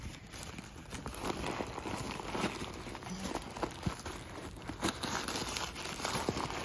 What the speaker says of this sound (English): This is quite a bit of stuffing in here.